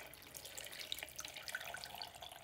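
Cold tea with its leaves is poured into a potted fern, giving a faint, close trickle with small splashes and drips as the liquid runs into the soil.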